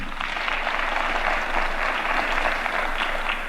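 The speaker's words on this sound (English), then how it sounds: "A better hand of applause." Steady audience applause at a religious leaders' prayer session during a Kisumu shipyard commissioning event in Kenya, a dense, even wash of clapping sustained throughout.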